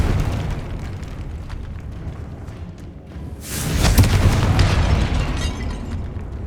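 A Confringo blast spell in Hogwarts Legacy bursts into a loud, rumbling explosion that swells after a brief lull and lingers with a heavy low roar over a constant background rumble, with no voices.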